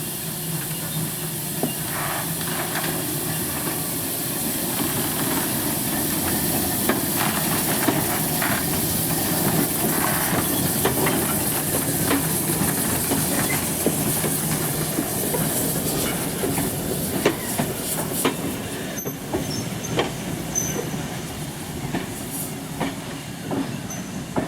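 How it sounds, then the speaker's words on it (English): A steam locomotive on a heritage run at the Hunter Valley Steamfest puffs away and rolls along the rails, with steady hissing steam, chuffing and wheel clatter filling the whole stretch at a constant, fairly loud level, no voices. "After shunting operations and landing passengers on board, Marjorie now puffs off with its final trip to Palaur,"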